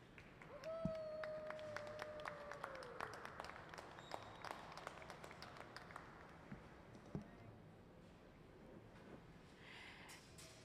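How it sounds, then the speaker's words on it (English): An audience at a glassblowing hot shop demonstration breaks into scattered applause, a light patter of clapping that rises, holds for several seconds and gradually thins out, with a brief whistle-like tone near the start. "let's give them a big round of applause."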